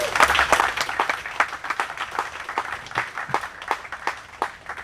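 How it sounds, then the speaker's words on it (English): An audience at an outdoor anniversary gathering for Hall's Pond gives a round of applause, a steady patter of many hands at moderate distance that stays even for about five seconds. "if we could just give them a round of applause"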